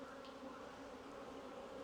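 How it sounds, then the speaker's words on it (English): Honey bees buzz around an open hive while a beekeeper works a mated queen nuc, a dense, steady close-up drone filling the whole moment with no voices. "They are buzzing me a bit more, these bees."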